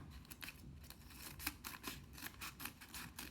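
Scissors snipping off excess paper while making upcycled paper flowers, a quick run of close, crisp cutting strokes in a steady rhythm, no one talking.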